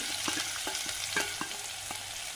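Sliced onions and garlic fry in hot oil for Tamil mutton pepper sukka, giving a steady broadband sizzle with a few soft spatula scrapes and stirs, close and even, no voices.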